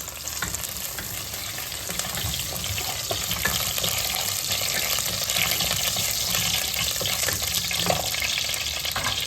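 Garlic fries in hot oil in a pan, giving a dense, continuous sizzle that holds steady and close for the whole stretch, with faint stirring scrapes and no voices.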